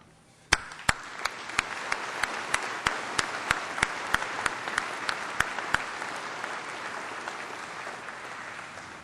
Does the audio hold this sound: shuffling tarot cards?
no